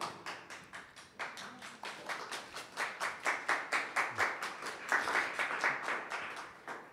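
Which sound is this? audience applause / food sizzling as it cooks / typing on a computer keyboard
audience applause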